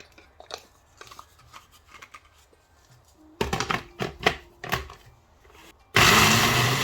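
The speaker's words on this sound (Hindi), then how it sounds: "तो इसको मिक्सर में डाल के इसको मैं ग्राइंड कर लूँगी" Intermittent crunching and clattering bursts, then a loud, steady grinding roar as a mixer grinder grinding roasted coconut runs at full speed at the end.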